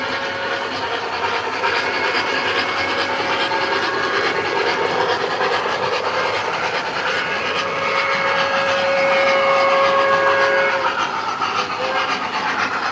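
Model Streamline K4 locomotive train running continuously with a steady rolling rumble and a sustained whistle-like tone partway through, heard alone without talk.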